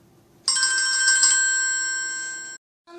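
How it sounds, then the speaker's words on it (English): A mobile phone sounds its ringtone for an incoming call. One bright, melodic burst of about two seconds plays clearly in a quiet setting, then stops and starts again. "Brianna receives a phone call."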